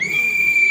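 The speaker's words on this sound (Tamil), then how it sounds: "ஒரே விசில்." One steady, piercing whistle blast held for under a second, loud and alone, sounding the start of a children's running race at a Pongal festival in a neighbourhood.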